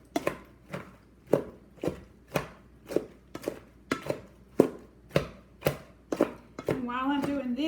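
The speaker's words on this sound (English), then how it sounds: "So let me get busy crushing them." Whole strawberries being crushed by hand for homemade jam, a steady series of about a dozen regular, close, soft thumping presses, followed at the end by a brief sound like a voice or squeak.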